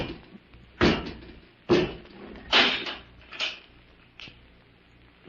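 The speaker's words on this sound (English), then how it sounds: "Come out and close the door, Robot 2." A door being closed as a sound effect in a 1945 radio drama: a series of about five close, solid thumps and knocks spaced roughly a second apart, fading slightly toward the end, with no voices.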